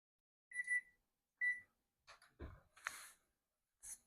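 A kitchen oven timer going off while baking macaroni pie: two short, high electronic beeps near the start, followed by soft clicks, faint handling noises and a brief breath, all quiet and close.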